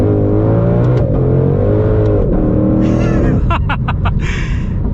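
A Shelby GT500 engine revving loud and steady in first gear, rising in pitch as it accelerates hard, with a brief mechanical whir and clatter near the end.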